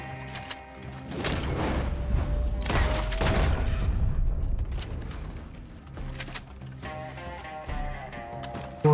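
Loud, sustained rumbling blasts and crashing debris from an explosion in Red Dead Redemption 2 Online, rolling on for several seconds over a music bed before tapering off.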